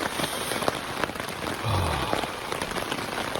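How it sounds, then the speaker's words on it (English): Heavy rain pours on a tent roof in the middle of the night during a thunderstorm at a campout, a dense, continuous patter with sharper drops scattered through it and a brief low rumble partway. "it was pouring rain. But I'm dry. I'm dry in the tent"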